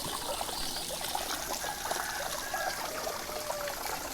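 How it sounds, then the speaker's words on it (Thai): A small waterfall trickles steadily into a backyard koi pond, a continuous close splashing and dribbling wash of water with no other sounds. "เป็นบ่อเลี้ยงปลาเป็นน้ำตก"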